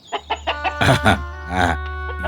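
A cartoon chicken clucks nearby in an animated children's story: four quick, evenly spaced clucks, then longer, drawn-out squawking calls.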